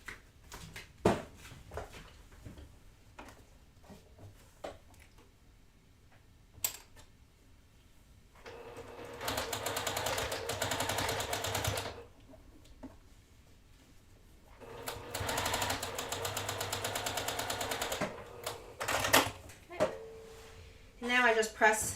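A sewing machine stitches along the long edge of a quilt block in two sustained runs of rapid, even whirring, close and clear, with brief handling clicks and quiet pauses in between.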